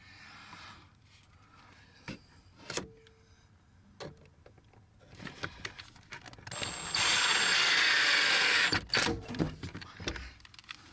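Screw driven into a full-extension drawer slide on a dresser in a Heartland 5th wheel trailer, a sustained loud whirring burst of a power driver lasting about two seconds, with scattered clicks and knocks of handling before and after.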